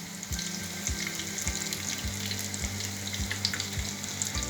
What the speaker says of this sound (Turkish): Paçanga böreklerimi kızartmaya başlıyorum.